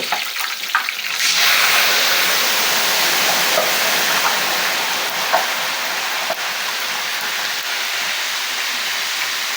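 Batter for crispy tofu is poured from a height into hot oil, setting off a loud, continuous hissing sizzle that swells after a brief start. The frying holds steady throughout with a few small pops.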